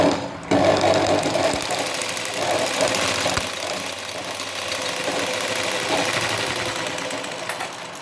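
Sewing machine stitching a blouse seam, a steady close whirring rattle of rapid needle strokes running continuously after a brief start, fairly loud with no voices over it.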